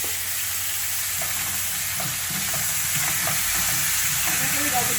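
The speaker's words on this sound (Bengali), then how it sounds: "তা আমি আবার তেল দেবো না, খালি গাছে একটু হালকা ভেজে নেবো।" Spices dry-frying in a pan with no oil, giving a steady close sizzle and hiss with occasional scraping stir sounds, continuous and unbroken throughout.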